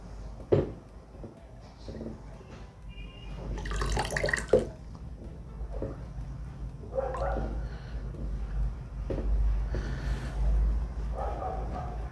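Fruits and vegetables are swished and rinsed in water with a plant-based dish detergent, giving close splashing, sloshing and dripping sounds that come and go in uneven bursts, with no talk over them.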